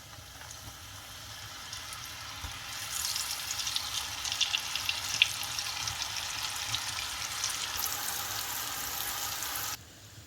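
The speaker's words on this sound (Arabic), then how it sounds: "ودابا غندوزو باش نقليوهم في الزيت" Moroccan Ramadan pastries fry in hot oil. A quiet start swells into a loud, bubbling crackle that holds steady and then cuts off sharply.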